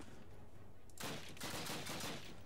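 Burst of rapid gunfire from the Call Of Duty video game, a dense run of loud shots starting abruptly after a quiet lead-in and continuing to the end.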